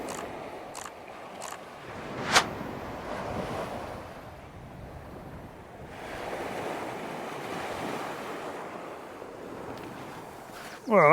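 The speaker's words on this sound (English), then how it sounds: "Sea's just rolling in, lovely, nice and soft little waves." Soft sea waves roll onto a beach at Cromer on a windy day. Gusts buffet the microphone over a steady wash of surf, with a couple of sharp knocks and a louder burst at the end.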